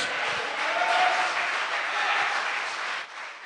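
Methodist congregation at an evening service clapping together, a full, steady spread of applause that thins out and fades near the end.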